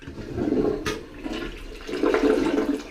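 Water rushes and gurgles through a Delta Foundations toilet just fitted in a mobile home, a close flush that surges twice with a brief clunk between, no voices.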